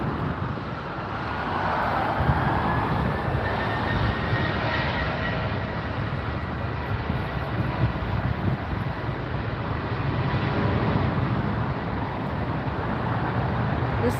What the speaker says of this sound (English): Another United flight heading out